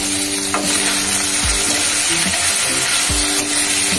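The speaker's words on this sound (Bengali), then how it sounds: "কড়া করে ভাজছি, বুঝলে।" Rohu fish pieces fry crisp in hot oil in a pan with slit green chillies, giving a loud, continuous sizzle with occasional stirring scrapes and clinks throughout.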